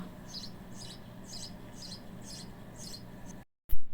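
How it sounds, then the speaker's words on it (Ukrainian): A sparrow chirps in a steady, evenly spaced series of about seven short, bright calls over a faint background hiss, then the sound cuts off abruptly. "Це горобець."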